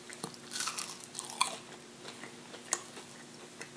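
Biting and chewing a Culver's spicy crispy chicken sandwich, with close crunchy bites and soft mastication sounds coming in irregular bursts, no talking.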